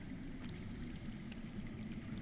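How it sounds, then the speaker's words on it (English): Faint running water somewhere underground in a Game of Thrones game, a steady low pouring rush with a soft trickling edge, heard alone at a distance without voices. "I hear water. From underground."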